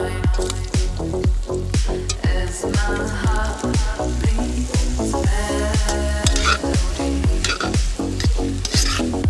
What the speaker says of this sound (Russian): Обжариваем наши овощи.